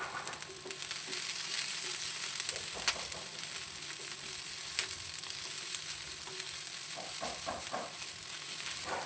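Spices frying in a pan for chicken green masala, a steady close sizzle with scattered sharp crackles and pops and occasional stirring scrapes.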